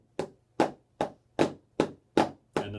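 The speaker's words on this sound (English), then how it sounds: "Flam taps are where you have a flam followed by a tap in the same hand." Seven crisp, evenly spaced drum strokes rap out sharply, each a snare drum flam played with sticks, close and loud with silence between hits and no talking.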